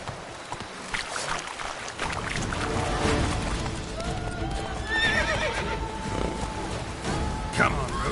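A horse in The Witcher 3 video game neighs and whinnies with shrill rising calls while hooves clip-clop at a gallop, mixed with game ambience and a man urging it on over the top.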